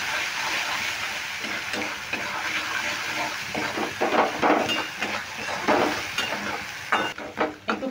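Spice paste for a pointed gourd dish is stirred and fried in a pan. A close, continuous sizzle runs throughout, broken by repeated scraping strokes of the stirring that grow louder and choppier toward the end. No one speaks.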